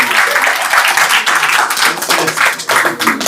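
Close, loud clapping from an audience at a devotional talk in Australia, honoring a spiritual teacher; uneven bursts of hand claps with scattered louder slaps, no speech over them.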